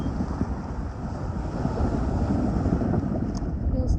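Steady wind rushes over a sailing boat at anchor under an open sky, a continuous broadband roar with faint water wash beneath, fairly close and loud throughout with no voices.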